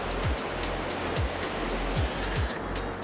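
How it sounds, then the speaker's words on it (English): Waves wash onto the beach at Callao Salvaje, Tenerife, as a steady broadband surf roar heard close and fairly loud, with a few brief low thumps. "And now we've got the beach."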